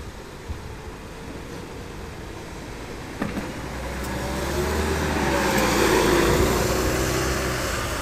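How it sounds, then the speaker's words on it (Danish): A bus drives up to a Danish border checkpoint, its engine rumble growing louder and nearer over several seconds as it approaches, with a sharp knock partway through. "Nu ser vi så her en bus, der kommer igen"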